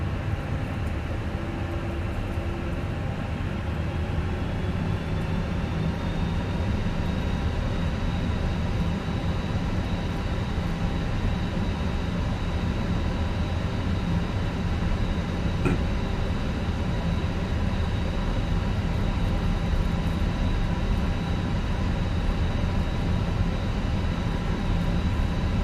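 Fenix A320 airliner taxiing in a flight simulator game, a steady, even engine whine and hum that holds throughout with a thin high tone rising early on, no talk.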